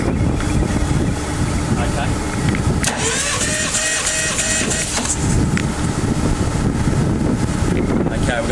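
A six-cylinder Jabiru aircraft engine cranks over during a dynamic compression test, a loud continuous mechanical churning with a rhythmic whirring layer joining partway through, recorded close with wind buffeting the microphone.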